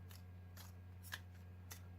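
Tarot cards being shuffled: four faint, soft papery riffles at roughly half-second intervals, heard close over a steady low hum, with no talking.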